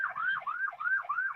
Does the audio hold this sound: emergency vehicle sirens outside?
yes